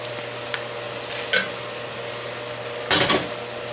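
A spoon stirring drained lentils back into a pot of soup, producing a steady simmering hiss with a couple of brief scraping, clinking strokes against the pot, close and alone.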